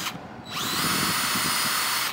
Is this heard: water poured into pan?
no